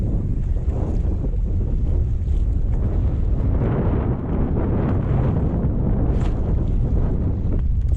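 A fishing boat's engine drones beneath heavy wind buffeting and crashing waves on a stormy sea, a loud continuous roar with rising and falling surges and no speech.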